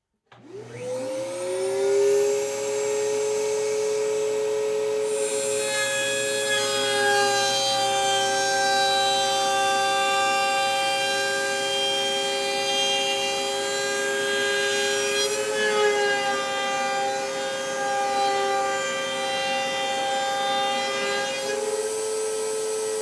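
A router table spins up with a shop vacuum running inside its enclosed stand for dust collection, rising quickly into a loud, steady whine with shifting harmonic tones, then briefly changing pitch as wood is routed, continuing alone without speech.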